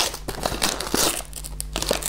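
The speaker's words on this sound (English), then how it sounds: "I'm gonna unwrap this early." Wrapping paper being torn and crumpled off a Christmas present, close and loud, with brisk crinkling rips over about two seconds.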